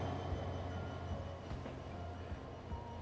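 A freight train in the Transport Fever 2 game rolls past with a continuous low rumble and steady, close wheel-and-track noise. Faint periodic clicks punctuate the rumble at an even level, and no voices are heard.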